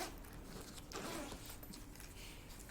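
A zipper on a JB Cases carrying case with white zipper pulls is drawn open in a quiet, close, continuous rasp lasting a couple of seconds.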